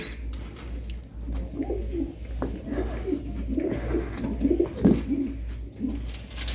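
Red-patched pigeons with white eyes coo in repeated low, throaty bursts close by, several birds overlapping above a constant low electrical hum.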